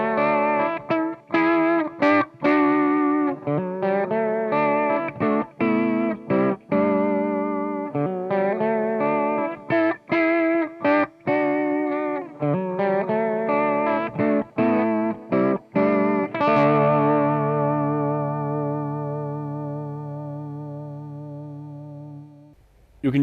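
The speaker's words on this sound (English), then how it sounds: "I'm using a slightly slower vibrato to get a little bit of edge and movement to my chord playing" Guitar chords pulse with a slow, wavering vibrato from a TC Electronic Shaker Vibrato pedal, strummed in a steady pattern and ending on a long, sustained ringing chord.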